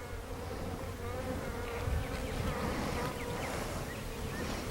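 Honey bees swarm around an open hive during an inspection, making a dense, continuous buzzing drone that stays close and steady throughout.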